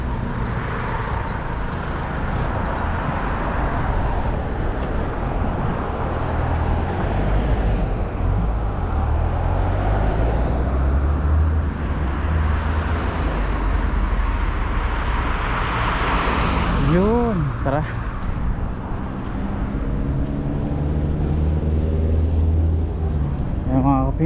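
Road traffic on a New Zealand street: cars and trucks roll past steadily at close range, the engine rumble swelling and fading with each vehicle.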